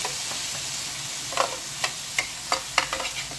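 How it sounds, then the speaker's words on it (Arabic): Grated tomatoes hit a hot pan of frying potatoes with a soft sizzle, followed by several sharp scraping clicks of a spoon stirring them, close by and alone. "نحط بقى طماطميتين مبشورين"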